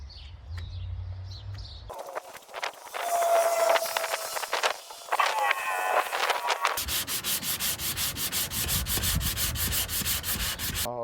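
Wet sanding on a 1972 El Camino body panel, a close, steady rubbing and scraping that grows into a rhythmic, repeated back-and-forth stroke pattern, with faint bird chirps in the background.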